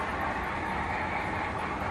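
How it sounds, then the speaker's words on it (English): A 30-car model railroad train rolls steadily along its track, a continuous soft rushing rumble with faint wheel clatter, heard alone without talk. "We've got 30 cars on the train."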